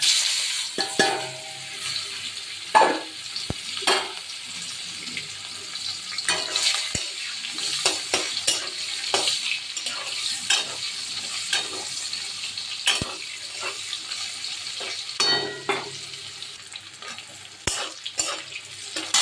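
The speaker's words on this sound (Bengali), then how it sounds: "আলু ভেজে তুলে নিয়েছি এবার পেঁয়াজটা দিয়ে দেবো" Onion fries in a pan with a constant crackling sizzle, broken by repeated scraping and clinking strokes of a spatula stirring against the metal.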